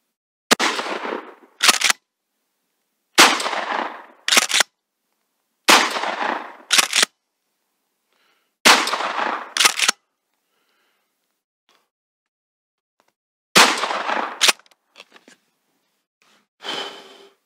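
An Avkar pump-action shotgun fired outdoors: six loud, sharp blasts spaced about two to three seconds apart, each followed closely by the clack of the pump being worked, with a long quiet gap before the last two shots.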